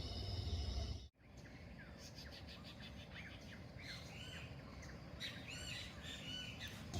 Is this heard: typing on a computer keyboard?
no